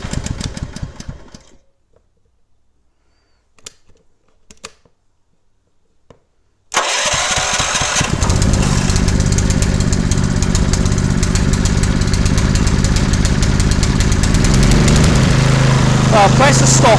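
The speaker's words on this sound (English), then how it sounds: "See, the engine just restarts itself. It's got momentum." A few seconds of near silence give way to a small Honda GX160 petrol engine on a generator abruptly catching, then settling into a loud, steady idle nearby.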